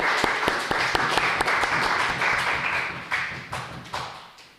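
Church congregation applauding during a Korean Sunday morning service, a brief round of clapping with distinct claps at first that blur together, then thin out and fade near the end.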